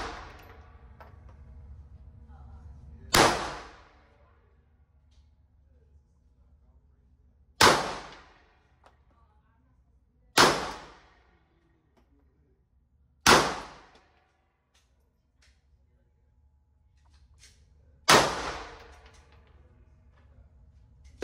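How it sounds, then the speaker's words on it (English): Handgun shots at a range during a shooting training class, five sharp loud reports spaced a few seconds apart, each decaying quickly into near silence. "We're going to put all 8 shots in the mask."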